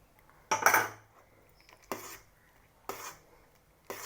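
Raisins and cashews are stirred into a pan of melted jaggery for sweet rice pudding: four separate scraping clanks of a spoon against the metal pan, the first loudest, with quiet gaps between and no talking.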